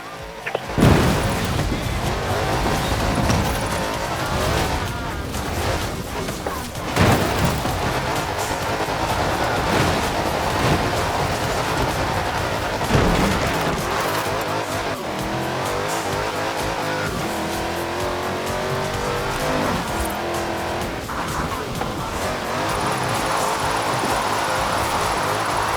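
Car drifting in the Forza Horizon 4 racing game, with a loud, sustained engine roar and tire squeal filling the whole stretch, plus occasional bumps and impacts and no talking.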